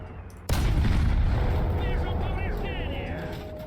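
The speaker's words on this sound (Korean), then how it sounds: "날탄으로 연료통 한번 10번 쳐볼 거고 대전차 고폭탄으로도 한 10번 쳐볼 거예요" A tank cannon in War Thunder fires an APFSDS round at a Leclerc's fuel tank, a single heavy boom followed by a long rumbling roar that slowly fades, with faint chirping game tones in the tail.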